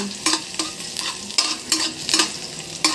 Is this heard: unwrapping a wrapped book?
no